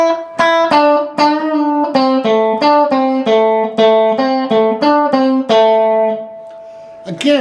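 Electric guitar plays the second phrase of a song, a quick string of about fifteen clear plucked notes ending on a sustained note, close and loud with no voices.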